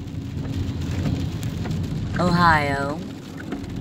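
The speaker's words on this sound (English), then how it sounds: "and it's raining and it's so hard to see the streets." Heavy rain falls steadily during a storm in Cincinnati, Ohio, heard close from a moving vehicle on city streets; a brief voice speaks over the constant wash midway.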